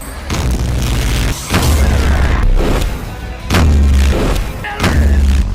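Heavy, booming whooshes surge in repeated waves, deep and forceful, with brief gaps between bursts: The Hand's object-erasing effect from JoJo's Bizarre Adventure.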